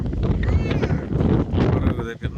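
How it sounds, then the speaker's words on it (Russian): Strong gusty wind, gusting to about 15–20 metres per second, buffets the microphone outdoors at a pigeon loft in Rostov Oblast, a loud rumbling roar that swells and drops. "Все равно ветер очень сильный."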